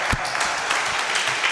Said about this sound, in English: Clap for